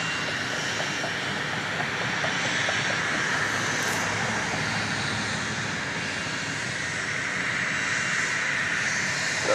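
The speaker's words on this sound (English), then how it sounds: "Southwest Airlines is getting ready to blast off here. It's a 737-700 off to St. Louis." A Southwest Airlines Boeing 737-700 takes off at Dallas Love Field, a loud, continuous engine roar with a dense hiss that holds steady and unbroken from start to finish, heard alone without voices.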